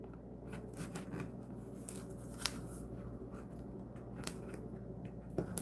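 Cutting out craft material with an X-Acto knife, quiet scratchy scraping strokes with a few small sharp clicks, faint and close.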